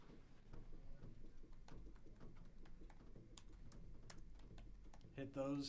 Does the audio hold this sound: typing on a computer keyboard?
yes